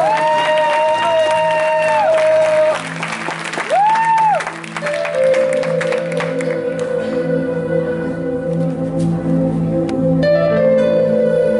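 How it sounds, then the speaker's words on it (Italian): Audience applause at a live band concert in Chiaravalle, a steady wash of clapping that runs the whole time beneath loud sustained musical tones. "Un altro applauso"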